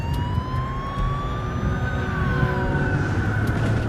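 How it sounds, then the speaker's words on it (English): A police car siren wails loudly and close, its rising and falling tone sustained throughout over rumbling traffic noise, with no speech. "I'm sitting in the back of this police car."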